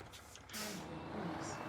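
A truck's air handbrake releases in a driving video game with a short, sharp burst of air hiss that then settles into a softer, steady rush, fairly close.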